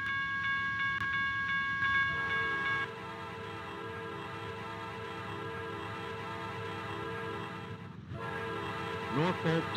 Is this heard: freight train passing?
yes